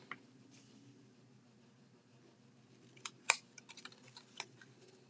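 Scissors cut out a paper craft character in a few soft, sparse snips near the middle, close and quiet against a faint steady background hiss, with no talking.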